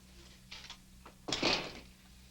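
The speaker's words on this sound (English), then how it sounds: "Well, shut the door." A door is pushed shut in an indoor room of a television drama, with a soft shuffle followed by a solid closing thud and brief rattle, fairly near and alone.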